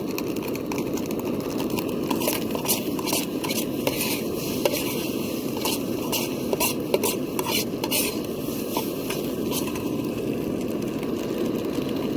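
Eggs frying in a pan on a camping burner outdoors, a constant dense sizzle and burner roar with scattered light metallic scrapes and taps of a utensil, no talking.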